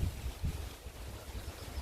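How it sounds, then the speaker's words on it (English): Strong garden wind gusting at about 55 km/h in dry weather, heard as a low, rough buffeting rumble that swells and drops in quick pulses. "Very windy today. We've got 55 km/h gusts."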